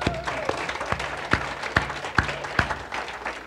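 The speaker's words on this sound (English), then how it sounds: "give them a clap" Audience claps sparsely for a couple, Dave and Kathy Bitner, called up at a gathering, a handful of sharp, separate claps spaced out unevenly rather than a full ovation, with low room murmur between them.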